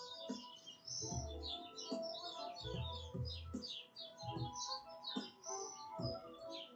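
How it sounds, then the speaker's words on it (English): Birds chirp and twitter outdoors in quick, bright bursts, fairly faint and scattered, with low thumps and background noise underneath. "You hear them birds?"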